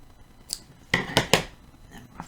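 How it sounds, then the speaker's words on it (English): Scissors snip through crochet yarn in a few quick close cuts, a short cluster of crisp metallic clicks over a quiet background with no voices. "cut our yarn"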